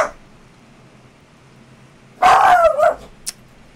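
A dog barks in Resident Evil 4 with the RE HD Project mod, one loud close burst of barking with a growl mid-clip after quiet, then a short sharp yip.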